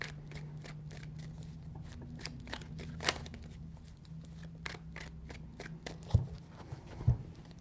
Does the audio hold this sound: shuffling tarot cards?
yes